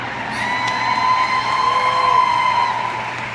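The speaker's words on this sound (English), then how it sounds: "Yeah, you can clap for that." Audience at a business event cheering and whooping, with sustained tonal shouts and crowd noise rising and falling over a few seconds.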